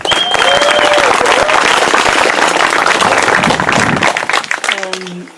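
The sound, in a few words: applause for a speaker at a rally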